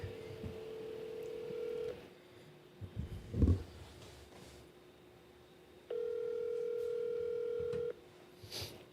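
A phone dials out with a ringback tone: two long steady tone bursts separated by a quiet gap holding faint rustling and a couple of small clicks and knocks, fairly soft and with no talking.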